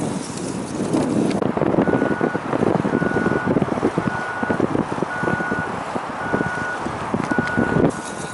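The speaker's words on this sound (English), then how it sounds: "The wind has really become stronger and stronger." Strong wind buffets the microphone near the sea, a loud, gusty rush with a steady repeating electronic beep running through it.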